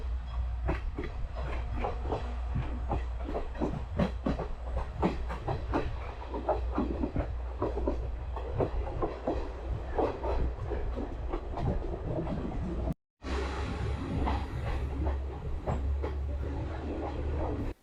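A train runs on rails in Sri Lanka: a steady, loud rolling rumble with rhythmic clickety-clack of wheels over rail joints, continuing almost unbroken for the whole stretch with no voices.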